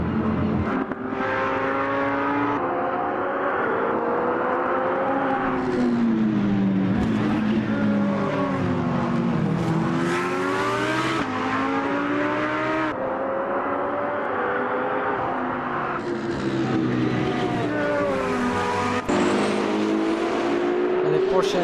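Porsche and Alpine race cars in the AMS2 racing video game on the Nürburgring Nordschleife, engines revving and shifting through gears continuously, loud and close, with commentary voices talking over them.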